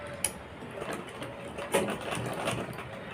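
Sewing machine stitching around the neckline of a designer blouse, a steady, quiet mechanical whirring and clatter running continuously at a moderate distance, with a couple of brief louder knocks.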